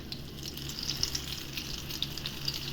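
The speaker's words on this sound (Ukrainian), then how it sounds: "І смажимо до румяної скоринки, потім перевертаємо і знову до румяної скаринки." Close-up sizzling and crackling of meat chops frying in a pan, a constant hiss dotted with sharp little pops and spits, no talking.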